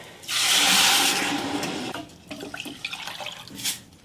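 Water pours into a pot of rice, making a loud rushing splash for about two seconds, then gives way to softer clinks, drips and handling noises close by.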